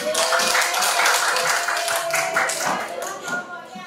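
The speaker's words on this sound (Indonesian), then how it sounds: "Tepuk tangan." A group of teachers at a school coaching session applauds with dense, continuous hand clapping, loud and close throughout.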